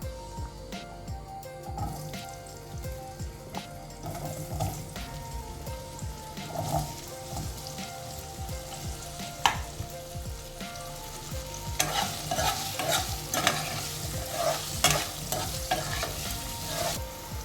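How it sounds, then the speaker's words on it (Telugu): Potatoes fry in two tablespoons of oil for an aloo capsicum curry, giving a close, steady sizzle with repeated scraping and stirring clatter throughout, louder toward the end, with no talking. "2 టేబుల్ స్పూన్స్ నూనె తీసుకుని దాంట్లోకి మనం ఆలుగడ్డల్ని ఫస్ట్ వేయిద్దాం."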